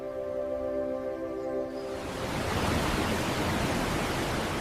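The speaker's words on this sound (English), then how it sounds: "Fed by the Pykara River, these waterfalls add another layer of beauty to the Nilgiri Hills." Pykara waterfalls in the Nilgiri Hills near Ooty, fed by the Pykara River. A steady, dense rush of falling water fills the scene, with a faint tonal hum at the start before the broad roar takes over.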